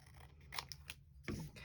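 Scissors cut roughly through paper for a mixed media project, giving a few quiet crisp snips close by, ending in a slightly louder crunchy cut.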